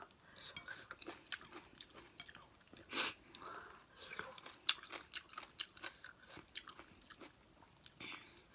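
Someone eats spicy papaya salad and crunchy rice crackers close to the mic, with quiet, irregular bites, crunches and wet chewing repeating throughout at low volume.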